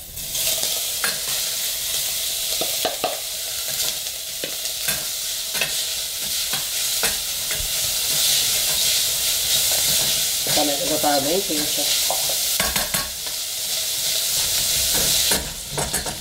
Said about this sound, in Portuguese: Então eu vou começar aqui refogando o bacon.